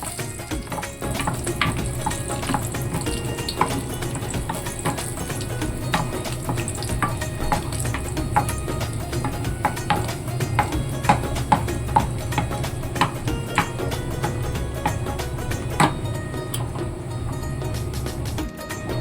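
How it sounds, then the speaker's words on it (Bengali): Steady, continuous sizzling of cashews and raisins frying in hot oil, with occasional scraping, no voices. "কাজু কিশমিশ সব কিছু দিয়ে নিচ্ছি এগুলো একটু অল্প করে ভেজে নেব"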